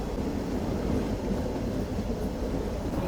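A train pulling out of Qazigund railway station in snowy Kashmir, on the Banihal to Srinagar line, makes a steady low rumble heard close from on board, with no voices.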